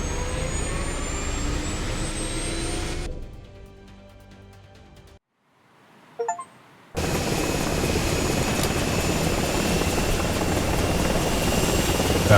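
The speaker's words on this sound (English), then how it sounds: "Load into the back of the helicopter." Helicopter in the video game Dagger Directive, a dense whirring rotor and engine roar that drops away into near silence midway, then returns at full, steady loudness.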